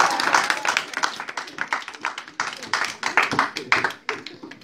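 Church congregation applauding at a worship service, steady dense clapping from many hands throughout, close and lively with rhythmic swells, and voices mixed in.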